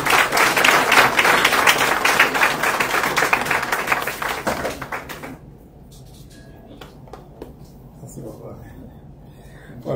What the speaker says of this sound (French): Applaudissements encore pour lui